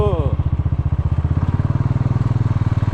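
A Bullet motorcycle engine chugs steadily with a rapid, regular thumping beat, close by and loud, briefly revving at the start, on a gravel road.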